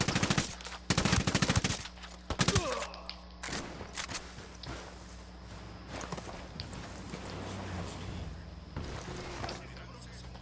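Staged battle in an audio drama: close bursts of rapid machine gun fire and heavy rifle shots crack in quick clusters, then scattered shots and gear rustle continue under tense voices.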